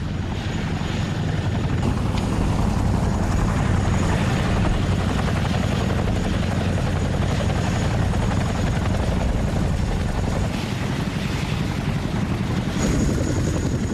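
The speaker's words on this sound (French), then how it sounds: "L'équipe médicale d'urgence arrive en hélicoptère pour récupérer les blessés." An emergency medical helicopter at a military camp in Afghanistan arriving to collect the wounded, its rotor producing a loud, continuous throbbing roar close by that holds steady throughout without voices.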